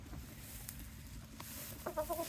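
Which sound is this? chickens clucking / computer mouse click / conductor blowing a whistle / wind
chickens clucking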